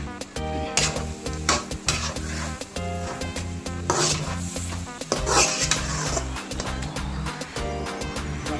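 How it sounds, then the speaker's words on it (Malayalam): Chicken with garam masala frying in a pan for a chicken roast, continuous sizzling with repeated stirring and scraping of the spoon against the pan, close and fairly loud with no talk. "നമുക്ക് ചിക്കൻ വറുത്തിടാൻ പറ്റും."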